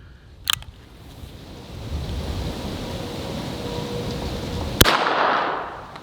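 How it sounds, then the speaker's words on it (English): Two sharp, loud shots from a Colt King Cobra 6-inch target .22LR revolver at a shooting range, spaced several seconds apart over a low, steady background rumble. "So let's go ahead and fire these next 5 shots."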